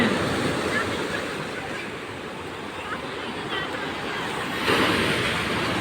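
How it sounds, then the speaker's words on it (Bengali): Sea waves roar onto a beach at night in stormy, rainy weather, a continuous wash of surf with wind buffeting, swelling louder near the end. "শুধু এই যে ঢেউয়ের গর্জন"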